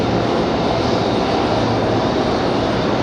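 A Southwest airliner departs Raleigh-Durham International Airport, its engines roaring loud and steady throughout with a broad, unbroken rumble and no talk.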